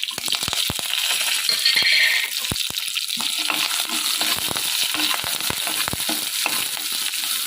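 Tempering spices crackle and fry in hot oil for radish sambar, a loud steady sizzle with scattered sharp pops and spatters throughout, no voices.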